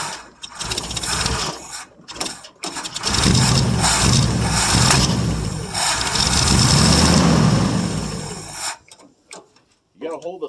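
A 1959 International B120 4x4 truck engine cold-starting after years idle, cranking and catching into a loud, sustained run with the throttle held, then cutting out after several seconds; voices talk over it in places.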